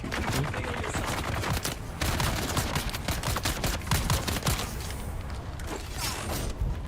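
Rapid gunfire and bursts from the video game Dune Awakening, loud and dense throughout, with sharp repeated shots layered over a constant busy battle din.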